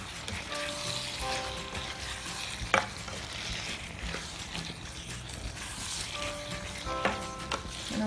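Kerala-style beef roast with coconut pieces being stirred in a pan: a soft, continuous sizzle with scraping and a few sharper knocks from the stirring utensil, fairly quiet and close.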